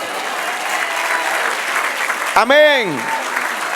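A church congregation applauds during a sermon, a steady, full wash of clapping that carries through, with a single voice speaking briefly near the end.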